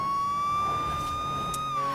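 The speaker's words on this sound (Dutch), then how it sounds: "Ik wil zo graag met mijn sirene aanrijden" Police siren on a Lamborghini police car in Forza Horizon 4, a steady continuous electronic wail running loud and unbroken throughout, with the car's engine rumbling underneath.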